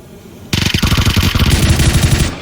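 Rapid automatic gunfire in the shooter PUBG: a loud, close burst of dense, rattling shots starts abruptly and runs continuously for about two seconds.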